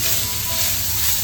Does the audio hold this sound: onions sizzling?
yes